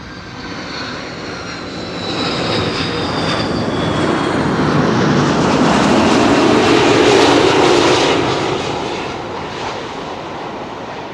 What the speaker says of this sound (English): Delta Airlines Flight 74, arriving from Atlanta, Georgia,